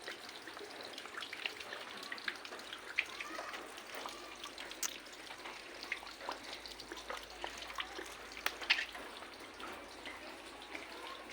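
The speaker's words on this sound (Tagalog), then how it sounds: "Walang tigil ang ulan." Heavy, unceasing rain on a cold, gloomy day pours down in a steady broadband wash, with scattered splashes and drips standing out close by, and no voices.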